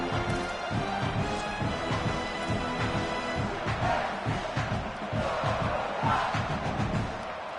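Football stadium crowd cheering and roaring continuously, a loud, dense mass of voices with rhythmic chanting pulses throughout, heard close and steady.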